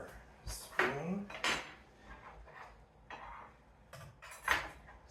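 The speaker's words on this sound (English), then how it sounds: "I'm going to finish this last setting, so we're putting down our knife and our spoon." A metal knife and spoon set down on a table while finishing a place setting for a Haunted Mansion themed tablescape, a few light clinks and taps, quiet and close with no talk.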